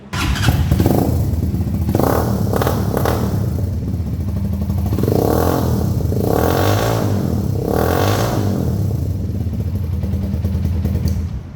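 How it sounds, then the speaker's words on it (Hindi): A Superstar 200CC motorcycle fitted with an M4 exhaust revs loudly and repeatedly up close, with surging throttle blips over a steady idle rumble and some mechanical clatter, and no voices. "M4 के जो एग्जॉस्ट है उसका साउंड चेक करते हैं कैसा है"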